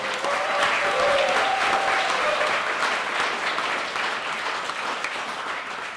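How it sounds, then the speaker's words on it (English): A hall audience gives Amy McVeigh a big round of applause at an evening event with Jackie Trad MP, steady dense clapping lasting throughout with faint voices and a brief whistle-like tone early on. "Big round of applause for Amy."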